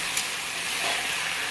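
Taro stems (kochu lata) frying in a pan, a brief close, steady sizzle and hiss with a faint stirring scrape.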